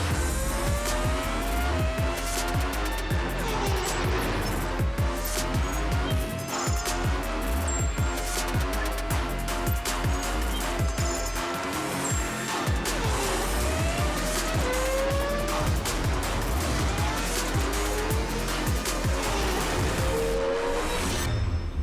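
Race cars roar around the Nürburgring in Germany in a racing video game, engines continuously revving and shifting with repeated tire squeals as several cars pass close by, loud and steady with no talk.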